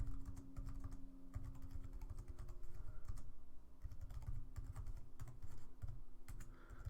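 Keys on a computer keyboard clatter in steady, fast bursts as text is entered into Mathcad, close and fairly loud, with a low hum beneath and no talking.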